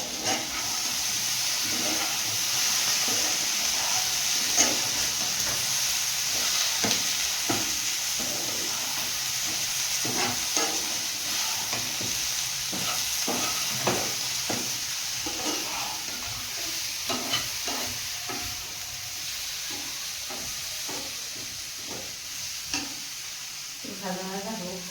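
Okra and potatoes cooked with shrimp for a curry, frying in a pan on a home stove: a constant loud sizzle and hiss with repeated scraping stir strokes throughout, and no talking.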